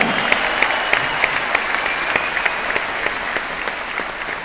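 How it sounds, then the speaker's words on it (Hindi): Applause from the audience at an award function: a dense, steady wash of clapping from many hands, loud and close, sustained throughout with occasional sharper claps. "सबसे पहले मैं एक बार जोरदार तालियां चाहता हूं उन लीडर्स के लिए"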